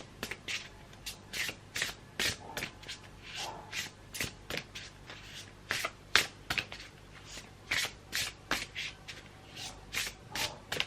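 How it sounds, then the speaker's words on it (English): Tarot-style cards are shuffled by hand in a steady run of crisp riffling swishes, about two per second, close and fairly soft, with no talking. "I just keep shuffling and these cards do not want to pop out at me"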